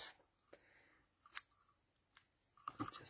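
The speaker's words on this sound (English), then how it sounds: "need some scissors" Scissors snipping paper at a crafting table while making fold Christmas cards, a few sparse, sharp close snips and clicks separated by quiet pauses.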